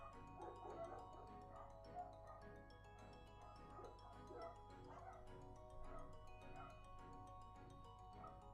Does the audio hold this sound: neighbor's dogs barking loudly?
yes